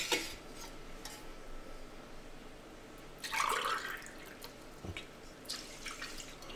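Water is poured into a pot of rice that already holds apple juice: quiet trickling and dripping with a few brief, slightly louder splashy bursts, heard alone at low volume.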